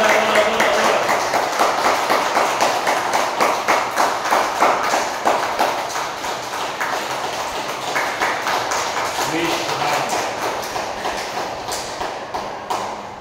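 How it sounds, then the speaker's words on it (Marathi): A yoga class keeps up loud, rapid, regular clapping for a long stretch while voices talk or chant over it, and the claps fade slightly toward the end. "चला जोरदार टाळ्या वाजवा"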